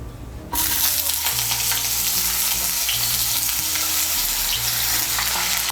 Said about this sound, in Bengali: তেলটা গরম হয়ে গিয়েছে, এর মধ্যে আমি আলুগুলো ভেজে নিচ্ছি।